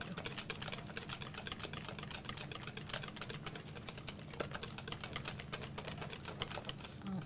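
A whisk beats sweet potato pecan pancake batter in a bowl, a quick, steady, rapid clicking and tapping that goes on close by without pause and with no talking.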